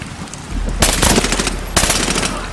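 Bursts of automatic gunfire in the video game Medal of Honor Warfighter, loud rapid machine-gun volleys in two strong clusters over a steady din of shooting.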